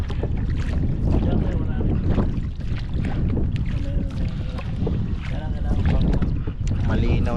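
An unpowered boat is paddled across a fish pond, with soft splashes and water sloshing under steady wind buffeting the microphone, while people talk nearby.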